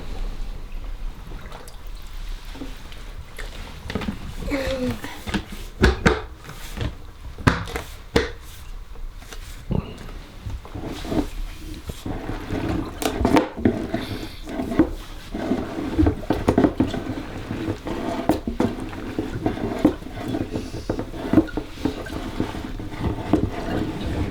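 Steady, rhythmic sloshing of a plunger agitating laundry in water in a bucket, with repeated wet thumps and splashes continuing throughout.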